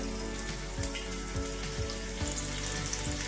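Bitter gourd slices are dropped one after another into hot oil on a flat pan, each landing with a soft thud over a steady, close crackling sizzle.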